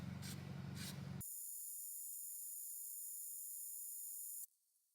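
A can of rust reformer sprays in one steady hissing burst lasting about three seconds, preceded by a short rumbling handling noise and ending abruptly.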